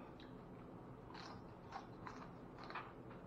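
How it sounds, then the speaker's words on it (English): Quiet crunchy bites and chewing into a cooked whole catfish, several soft crackling crunches spaced irregularly over a low background hum, close but faint. "I know y'all can hear that crunch"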